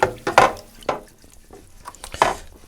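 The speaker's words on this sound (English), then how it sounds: "I'm doing a very vigorous exercise, washing up." Dishes being washed by hand in a sink of very hot water, with clattering knocks and splashy scrubbing in irregular bursts, close and fairly loud with no talk.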